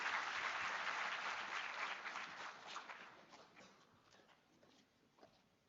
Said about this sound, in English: Let us give a tremendous round of applause for Mr. Sunil Nayak.